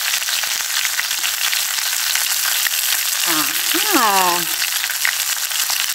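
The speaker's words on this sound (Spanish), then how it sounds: "Escuchen este sonido. Ahí se están friendo." Small sea fish sizzle in hot oil on an improvised outdoor stove under a tree, a loud, steady, close crackling hiss throughout, with a person briefly speaking over it partway through.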